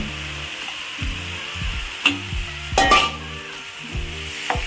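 Fried rui fish heads drop into a hot pan and sizzle steadily, with a few sharp metallic clanks and scrapes of a spatula against the pan, close and unaccompanied by talk.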